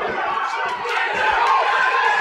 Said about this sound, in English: Absolute mayhem here ringside, the crowd.